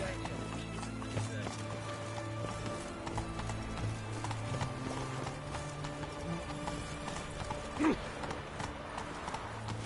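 A horse named Roach gallops in The Witcher 3, its hooves beating a steady clip-clop rhythm at close range. Game ambience plays underneath, and one sharp accent comes near the end.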